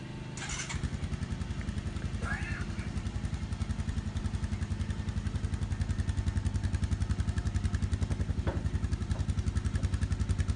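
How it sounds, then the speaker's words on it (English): A Honda ATV engine runs steadily at close range with its spark plug removed, a rapid rhythmic chugging putter that grows slightly louder over time, with a few faint clanks. "you want to start the ATV up with the plug removed"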